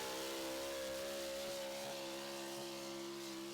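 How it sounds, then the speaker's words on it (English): A diesel super stock pulling truck engine roars steadily at high revs, loud and droning with a strong harmonic whine, heard at a distance without pause. "Listen to this motor."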